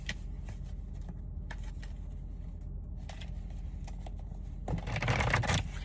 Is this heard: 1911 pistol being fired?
no